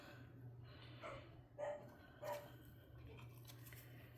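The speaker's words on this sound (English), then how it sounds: "The dogs are going crazy." Several dogs bark in short bursts, three or so sharp barks spaced across a steady background hum, heard at moderate distance in a home workshop.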